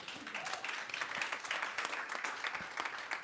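A round of applause from the audience at a youth climate adaptation awards ceremony, steady, even clapping that holds through the whole moment at a moderate distance.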